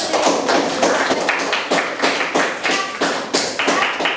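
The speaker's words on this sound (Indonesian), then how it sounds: "Ya, tepuk tangan lagi sekarang." A classroom of children claps together, steady and loud, the applause rolling in uneven bursts for several seconds.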